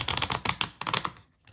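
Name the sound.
shuffling oracle card deck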